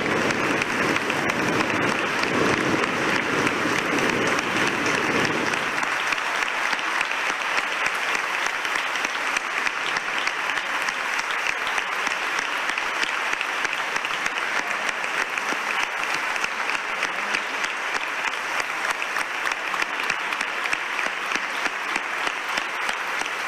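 An audience breaks into sustained, even applause celebrating the announced canonical coronation of Nuestra Señora del Rocío; the clapping stays dense and steady throughout, with no voices above it.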